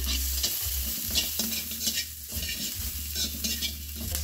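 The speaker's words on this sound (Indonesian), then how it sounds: "Dan untuk hiasannya aku akan goreng cabai merah." Red chili peppers sizzle in a frying pan while being stirred, a continuous close crackle with scraping utensil sounds and no talking.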